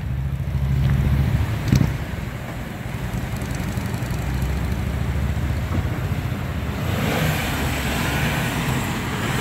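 Engine of an older, classic-bodied Toyota Supra running steadily with a dense, fairly quiet rumble, swelling slightly brighter toward the end as it is revved, heard close with no speech over it.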